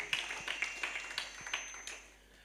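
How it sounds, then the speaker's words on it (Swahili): A handful of light, scattered claps ring out for a young man during a Sunday church service, irregular and fairly faint, with no voices over them. "Tupigie kijana makofi."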